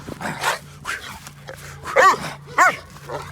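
Bandog barking and growling while chewing a stick, with several close, loud, gruff barks, two sharp bursts standing out near the end, over low background noise.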